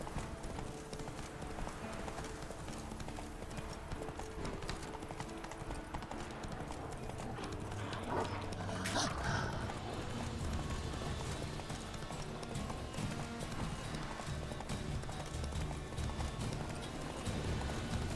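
Roach the horse gallops in The Witcher 3, steady clip-clop hoofbeats running continuously up close, with a brief whinny and a soft voice partway through.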